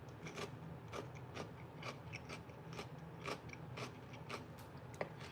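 Close, crisp crunching of someone biting and chewing fresh cucumber from a hydrating snack plate, with repeated sharp crunches at an uneven chewing rhythm over a steady low background hum.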